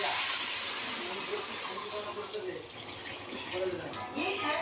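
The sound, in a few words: water poured into pan of cooking mutton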